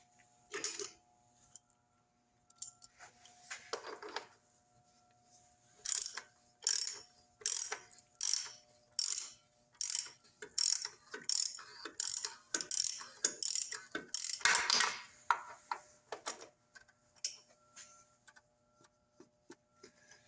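Rapid bursts of ratchet clicking from a socket wrench tightening a part on a Toyota Prius engine during an oil change, repeated in quick strokes with short pauses, close and fairly loud in a quiet room.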